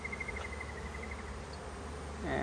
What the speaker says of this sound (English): So I can gently get the bees moving off my arm.